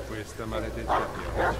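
Dogs give a few short, brisk barks and yips in quick succession, mid-distance, over a low background murmur.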